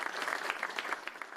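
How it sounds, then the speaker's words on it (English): A crowd claps and cheers in a brief, steady burst of dense applause at a celebration of the ANMED Central Clemson emergency department, heard at moderate distance. "Cheers rang out in the crowd, celebrating ANMED making history"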